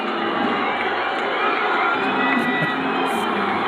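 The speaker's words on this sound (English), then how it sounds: "You hear the crowd." Football fans roar steadily at a stadium during a New Mexico United versus Atlante FC match, a loud, continuous wash of crowd cheering with scattered whoops rising briefly above it.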